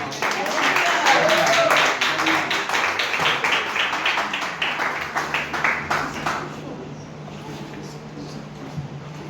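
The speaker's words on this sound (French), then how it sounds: "Applaudissez le Seigneur pour sa vie." Congregation clapping together at a church baptism, a dense burst of applause for about six seconds that then thins and fades, with some voices mixed in.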